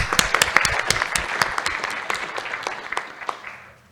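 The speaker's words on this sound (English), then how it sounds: "let's round of applause to Rodrigo." Applause from an audience after a conference talk on international macroeconomics: many hands clapping at once, strong at first and gradually dying away toward the end.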